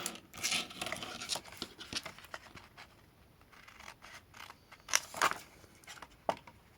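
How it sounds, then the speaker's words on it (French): Paper being cut for a pop-up birthday card with a drawer, giving a run of close, crisp snips and rustles, with sharper cuts standing out toward the end. "On va venir découper alors ce petit carré, ce petit rectangle qui ne sert à rien."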